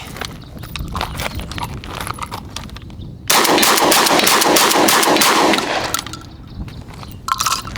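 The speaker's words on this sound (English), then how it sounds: "Benelli M3, shooting Lambro 1350 FPS slugs." A Benelli M3 shotgun fires Lambro 1350 FPS slugs outdoors: loud, sharp blasts, one of them followed by a long, steady roar of sound lasting a couple of seconds.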